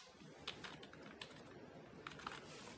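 Quiet computer keyboard typing under a steady hiss, with a few scattered soft key clicks spread across the clip and no speech.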